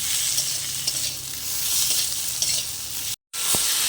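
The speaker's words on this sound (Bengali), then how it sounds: "ওটাই দিয়ে এবার নাড়াচাড়া করে নেব যতক্ষণ না টমেটোটা নরম হয়ে যাচ্ছে" Chopped tomato stirred and fried in a hot pan while cooking a Bengali dal, with a steady loud sizzle and scraping stirs throughout and a brief break near the end.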